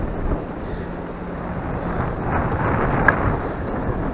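Steady wind roars and rumbles against the microphone outdoors while fishing for yellow perch in late fall in Connecticut, a constant low buffeting with slight swells and no speech.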